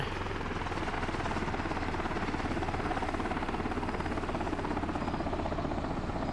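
A video-game helicopter going down after losing its anti-torque rotor makes a loud, unbroken rotor throb with rapid blade chopping, close and steady for several seconds with no voices.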